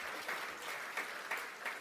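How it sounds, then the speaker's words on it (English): Conference audience clapping at a closing plenary, a short burst of steady, fairly faint applause with a few sharper claps standing out. "So a round of applause for all those people who've made"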